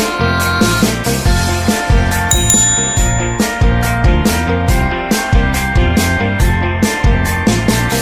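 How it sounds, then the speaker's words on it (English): A bright bus bell dings over and over in a steady, bouncy rhythm in a children's song, ringing out loudly over a cheerful musical backing. "Bell on the bus goes ding ding ding"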